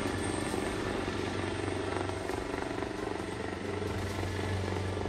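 A helicopter thrums steadily nearby during violent protests in Nepal, its rotor beat and engine whine forming a constant loud roar throughout.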